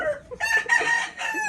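A rooster on a rural farm crows in a loud, drawn-out call, followed by shorter clucking bursts, all close by with no talk.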